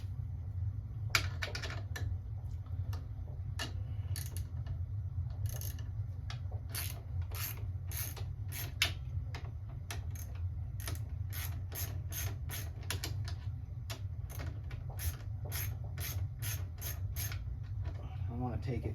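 Ratchet clicking in repeated bursts while loosening the bolts on a 2022 CFMoto 650 Adventura motorcycle exhaust, close and crisp, with short rapid clicks separated by pauses over a steady low background hum.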